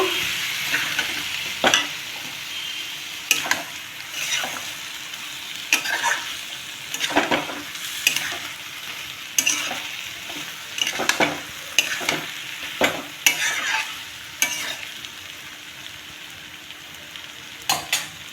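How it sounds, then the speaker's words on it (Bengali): Steady sizzling as broken wheat fries, with a spatula scraping and stirring through the pan in repeated strokes, close and fairly loud, with no talking. "ডালিয়া দিয়ে এবার ভালো করে নাড়াচাড়া করব"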